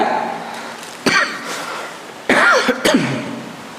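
A few sharp coughs from a nearby voice, spaced apart with short pauses, one early and a couple more close together later.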